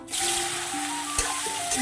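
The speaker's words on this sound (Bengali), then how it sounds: "তেল গরম হয়ে গেছে দেবো লবণ হলুদ সোয়াবিন কটা ভেজে নেবো" Soybean chunks fry in hot oil with a steady bright hiss for a couple of seconds, a brief clatter midway, while soft tonal music plays underneath.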